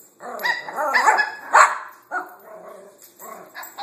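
Several dogs bark and yip excitedly indoors at another dog hiding under a couch, with loud, overlapping barks in quick bursts and short gaps between them.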